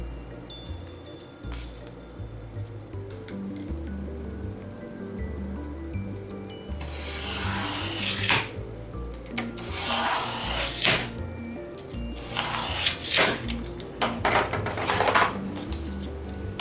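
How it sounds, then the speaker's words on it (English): Paper being trimmed to size for a 6x6 mini album cover, with broadband swishing and rubbing strokes in several bursts over a steady low hum, close and moderately loud. "Okay, and then I'm just going to go ahead and trim it down."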